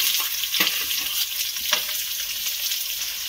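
Onions go into hot oil with bay leaves, cinnamon, cloves, black pepper and cardamom while cooking jackfruit curry, a bright close sizzle with a few soft stirring knocks throughout.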